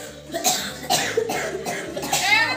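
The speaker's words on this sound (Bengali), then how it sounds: "ওরে কাশি" A person coughs several times in quick succession, harsh and close, in a rough repeating rhythm.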